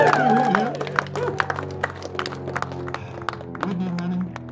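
Wedding guests break into applause during the ceremony, a crowd of scattered, sharp claps at moderate distance over a low hum, with a voice and some cheering early on.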